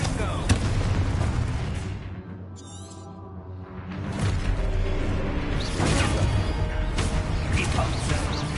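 Confringo spell explosions in Hogwarts Legacy go off as repeated loud booms and whooshing blasts. A short lull separates two heavy bursts of fiery impacts.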